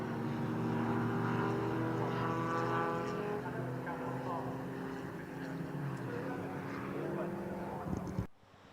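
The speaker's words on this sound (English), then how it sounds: "So the cars on the green flag lap for this Armed Forces Race Challenge restarted race." BMW race cars, including the G20 model, roll around Oulton Park on a green flag lap for a restarted Armed Forces Race Challenge. Their engines make a steady, fairly distant drone under continuous commentary and cut off abruptly near the end.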